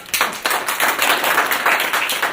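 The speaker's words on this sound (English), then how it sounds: "Thank you, round of applause." A small improv show audience claps steadily for a couple of seconds, a dense patter of hands with no voices.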